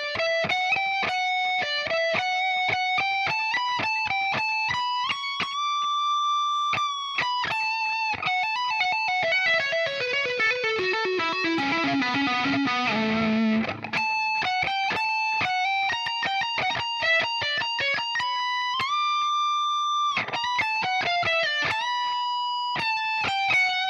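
A sustained, effects-laden electric guitar plays the steady melodic outro line, with a brief descending slide in the middle, alone and fairly loud.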